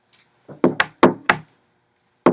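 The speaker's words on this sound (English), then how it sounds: "Hard. Knocking. Hollow." Hollow knocks on a wooden object, five or six sharp raps in an uneven rhythm, close and fairly loud with short gaps of silence between them.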